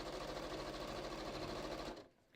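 A sewing machine stitches fabric for a handmade gift in a fast, steady mechanical whir that holds close and loud. The motor then cuts off abruptly just before the end.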